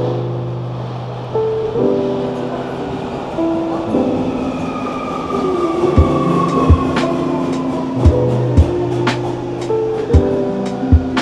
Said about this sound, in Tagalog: Yan yung tren sa kabila.